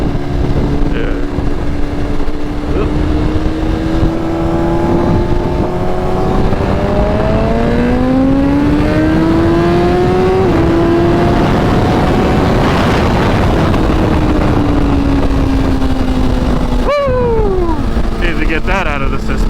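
A BMW S1000RR sport bike accelerates hard, its engine note climbing loud and close through several gear changes, with steady wind roar underneath throughout.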